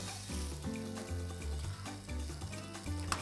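Food sizzles steadily in a hot pan while pieces are flipped during a cooking masterclass, a continuous frying hiss with faint clicks of handling, and no voices.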